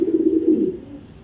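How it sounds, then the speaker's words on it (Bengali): Short, close, fairly loud low coo from a pigeon, one sustained throaty phrase that fades off near the end, with no voices. "কবুতরগুলো হলো মাক্ষী কবুতর"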